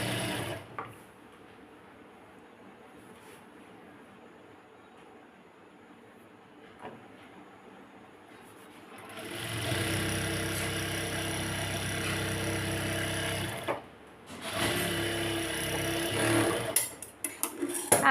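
A sewing machine stitching the folded hem of palazzo pants, quiet handling at first, then a close, loud whirring run of stitches in the second half, broken by a short pause.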